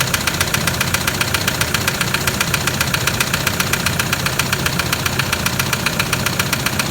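An idling car engine, near failure, with a loud, rapid, regular knocking tapping throughout, close and steady with no talking.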